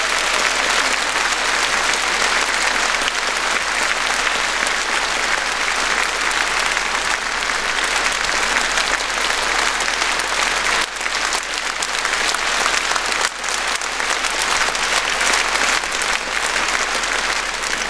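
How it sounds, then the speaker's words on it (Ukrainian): Concert audience welcoming a singer onto the stage with sustained, even applause from a large crowd, a steady wash of clapping that holds at full strength throughout. "Ваші оплески"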